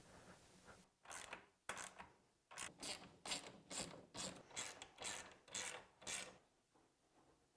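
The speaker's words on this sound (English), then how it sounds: "And we'll go back through and tighten down all of the hardware." Ratchet wrench tightening the bolts and nylock nuts of a Tusk top rack on a BMW R 1300 GS motorcycle, a series of close, crisp clicking bursts in a steady back-and-forth rhythm, with no talking.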